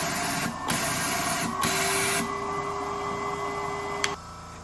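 A Foredom abrasive blaster runs with a steady, loud hiss of media blasting from its nozzle, cutting in and out in short bursts before settling into a continuous rush with a faint tone and a sharp click near the end.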